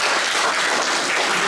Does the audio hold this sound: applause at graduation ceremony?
yes